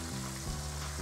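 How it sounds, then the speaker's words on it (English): Bite-size chicken pieces fry in oil over medium heat, giving a steady, close, dense sizzle that stays even from start to finish with a faint low hum underneath. "With medium heat, you wanna fry it for about a minute and then flip."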